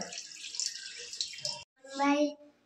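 A child splashes hands in water at a sink, producing bright, busy splashing up close, broken by a short pause and then a brief burst of a voice.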